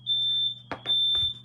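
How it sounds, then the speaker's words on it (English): A household smoke alarm in a garage, linked to the other alarms in the house, sounds a loud, steady high-pitched tone, briefly broken by a few whooshing, rustling bursts. "Which is where a fire alarm is, which is connected to all the other fire alarms in the house. Therefore, we get to hear it all the time."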